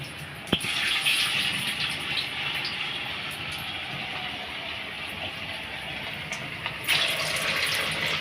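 Idli-batter bondas deep-fry in oil over a lowered flame, giving a steady, close bubbling hiss throughout with a couple of faint clicks.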